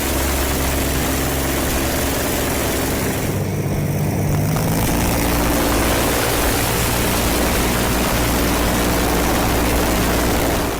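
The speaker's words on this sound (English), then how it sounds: "This machine is powered by a 6-cylinder Rolls-Royce Continental aircraft engine from 1960, producing 300 horsepower." A motorcycle powered by a 300-horsepower 6-cylinder Rolls-Royce Continental aircraft engine from 1960 runs with a loud, steady, dense roar that fills the whole clip without pause.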